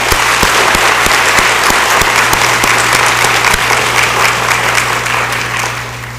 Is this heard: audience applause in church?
yes